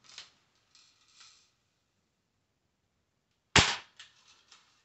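An airsoft gun fires tracer rounds at a BB trap target: a sharp pop with a few lighter clicks, a pause, then a louder close crack followed by softer trailing ticks.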